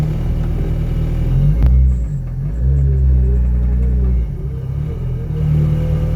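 A 330+ bhp turbocharged Citroen Saxo VTS idles while warming up, a loud, close, deep rumbling hum with a couple of brief rises in revs before settling back, running throughout without talk.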